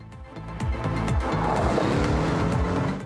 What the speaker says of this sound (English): Now it's time to try out the Porsche on a test track.